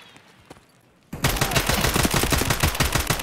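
Gunfire in Escape from Tarkov: after about a second of quiet game ambience, loud rapid automatic bursts erupt and rattle on densely until the end.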